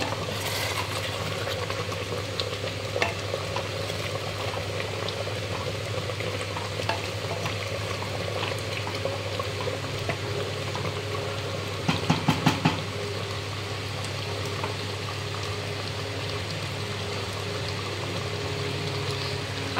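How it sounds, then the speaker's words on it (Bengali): Mutton frying and being stirred in a pan with oil: a steady sizzle with soft scraping and stirring runs throughout, and a brief cluster of clinks comes midway. "এই যে মাটনটা এখানে কষছি আমি, মাটন কষা হচ্ছে"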